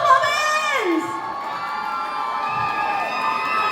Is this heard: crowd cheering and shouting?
yes